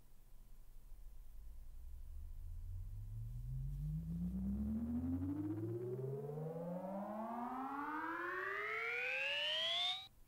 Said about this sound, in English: so there's our pitch sweeping oscillator pad